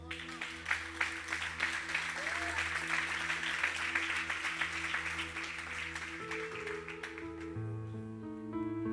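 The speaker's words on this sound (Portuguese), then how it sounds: "Vamos aplaudi-lo?" A church audience claps in a dense, rhythmic wash over sustained music, the applause fading out near the end while the music keeps ringing.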